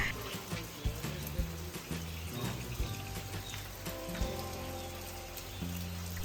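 Heavy rain falls steadily in misty Ooty, a dense continuous patter of drops on surfaces with no voices.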